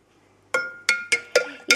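Stirring homemade lemonade in a glass jug produces five bright, ringing clinks spaced unevenly, each one sharp and close with a short glassy ring, heard alone against quiet.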